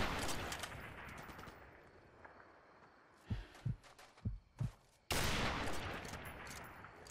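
Gunfire in Call of Duty: Modern Warfare Remastered campaign, a few sharp separate shots in the middle of the stretch with dense rattling bursts of fire before and after, loud and close.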